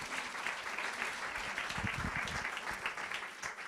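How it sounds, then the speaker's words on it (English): A room full of guests at a book launch on Italian fashion claps warmly to welcome Giorgio Spano, a continuous even patter of many hands with no talking. "Please welcome all with an applause."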